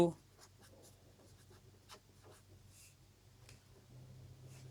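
A pen writes on paper during a Bengali geometry lesson about circles, giving faint, intermittent scratchy strokes up close, with soft breathing in the background.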